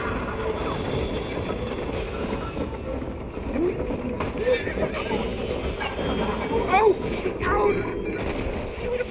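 Horses in the video game Red Dead Redemption, with whinnies and hoof clip-clop over a steady outdoor ambience while characters talk throughout.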